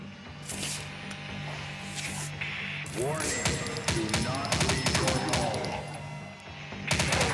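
Rapid gunfire bursts crackle through a zombie commando shooting video game, with repeated shots and reload clatter over a game soundtrack, while someone talks excitedly during the action.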